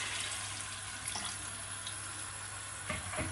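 Water poured into a pot of rice for mutton yakhni pulao makes a steady, soft rushing splash that runs the whole time at low level with no talk.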